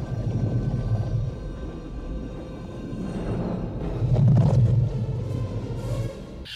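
Shark in the film Jaws 3 giving a deep, rumbling underwater roar that swells midway and stays loud and continuous, with no voices present.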